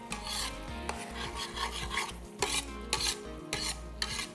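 Ground spice masala with crushed cumin roasting in a pan for vegetable katakat, stirred with a slicer in rhythmic rasping strokes that scrape repeatedly over a low sizzle, close and without talk.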